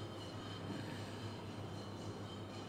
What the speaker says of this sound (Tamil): ட்ரெயின் போகிறதை பார்க்கின்றீர்கள்.